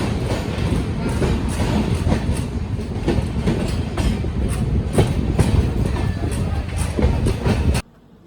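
Jabalpur Superfast Express (11450, Katra to Jabalpur) running on rails near Narwana Junction, Haryana, with loud steady rumble and repeated clickety-clack of wheels over rail joints throughout, ending abruptly.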